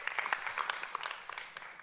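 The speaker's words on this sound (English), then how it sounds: "Can we clap for her at least, you know?" An audience claps for a woman at a stand-up comedy talk, a short burst of scattered, moderately loud hand claps with no voices over it.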